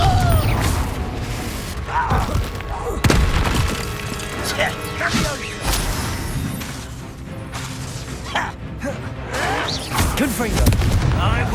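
Confringo spell explosions in Hogwarts Legacy, repeated sharp blasts and cracks amid combat, with voices talking and shouting over the fight.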